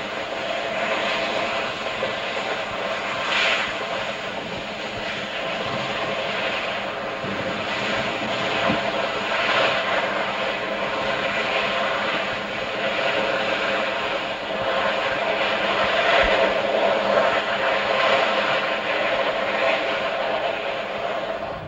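Union Pacific 8,500 horsepower gas turbine locomotive, helped by a DD35 and GP35, passes at track speed with a steady, loud, roaring turbine whine and engine drone lasting throughout and swelling slightly toward the end.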